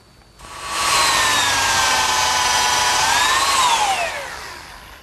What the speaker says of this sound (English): now I pre-drill and screw the lid to the lower rail